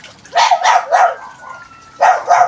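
A neighbour's dog barks in quick sharp bursts, three yaps, a brief pause, then two more, loud and close by.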